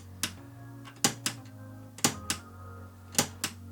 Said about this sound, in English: it's got this satisfying clicking sensation when you close it